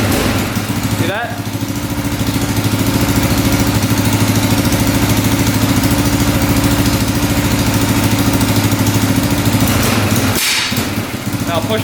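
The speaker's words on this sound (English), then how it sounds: "now it revs out completely when you push it all the way in" A quad ATV engine with a parking brake fault runs close by, a loud, steady throbbing drone with a few brief knocks near the start and end.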